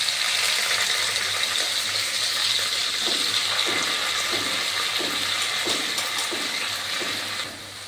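Ingredients for chicken biryani fry in a spoonful of hot ghee in a pan, giving a loud, steady sizzling hiss with faint, regular stirring scrapes toward the end.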